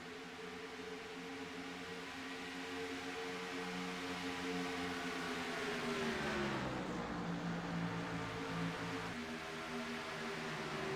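Three race cars running side by side on a track, a continuous droning engine roar whose pitch dips and recovers as they cross the line, heard at a moderate distance.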